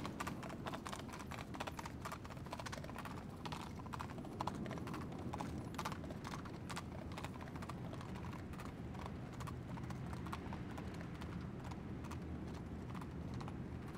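A donkey and cart on the road to Cashel in Ireland: steady, continuous clip-clop of hooves with rattling wheels, close and even throughout, no voices.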